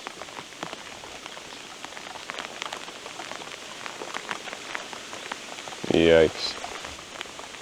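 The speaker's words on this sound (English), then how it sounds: "It's really raining right now." Heavy rain pours steadily onto the surfaces around a lakeside fishing spot, a dense continuous patter close by. A brief exclamation from a voice cuts in near the end.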